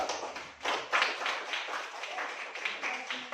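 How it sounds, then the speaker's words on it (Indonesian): A classroom group applauds at the end of a presentation, a brief scattered burst of clapping from several students that starts after half a second and trails off under background chatter. "Tepuk tangan dulu untuk kelompok 3"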